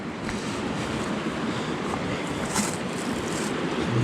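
Steady, full rushing of water in Iron Fork Creek along the Ouachita Trail, a constant broadband wash heard up close with no pauses or voices.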